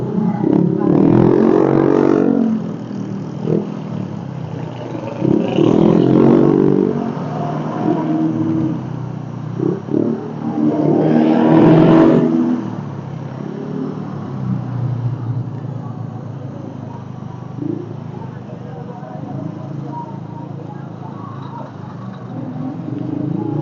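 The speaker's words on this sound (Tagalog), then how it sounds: "Traffic dito guys" Road traffic in a jam, heard from a helmeted rider, with engines repeatedly revving up in loud surges between steadier rumbling, and faint voices in the mix.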